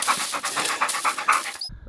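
A hunting dog pants rapidly and steadily at close range in a rhythmic string of quick breaths, then stops abruptly.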